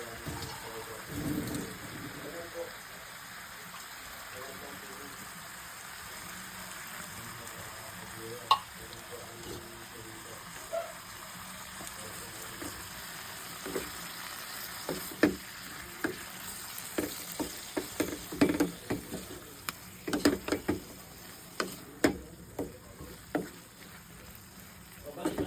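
Sardines sizzle in a pan as a little water goes in, a faint crackling fry that grows busier, with scattered stirring clicks and scrapes toward the end.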